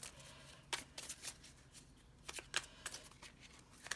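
A Witch Casket deck of empowerment oracle cards being shuffled, close and crisp, in repeated short riffling bursts separated by brief pauses, with no talking.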